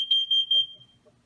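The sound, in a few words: Nest Protect smoke detector test alarm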